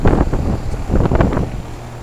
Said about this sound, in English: This is just so I can get a longer clip of the York LX running